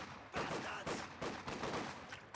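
Heavy machine gun in Company of Heroes 2 battle, a distant rattling burst of gunfire mixed with other battlefield shots, quiet and continuous under game ambience.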